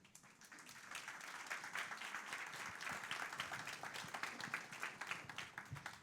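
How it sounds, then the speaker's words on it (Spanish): A church congregation applauds, the clapping building quickly from quiet and staying dense and fairly close for several seconds, with a hint of crowd murmur beneath. "Un aplauso a Keila"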